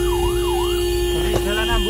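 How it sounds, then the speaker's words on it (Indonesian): An ambulance siren in Semarang, Indonesia, wails in rising and falling sweeps over a steady electronic tone, loud and close, with a brief sharper burst near the end and continuous traffic rumble underneath. "kita akan hidupin sirine ambulan"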